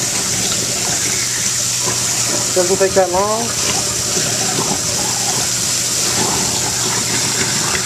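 Kitchen garbage disposal chewing up papaya with the tap running: a constant rush of water and grinding churn throughout, close and loud, with a person briefly speaking over it.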